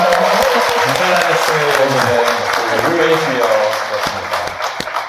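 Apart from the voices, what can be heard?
audience applause at a book concert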